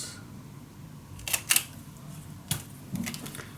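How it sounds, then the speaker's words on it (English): Scissors snip the corners of white cardstock for a scrapbook mini album page, a few short crisp cuts in close succession, quiet and near, with no talk. "cut the corners"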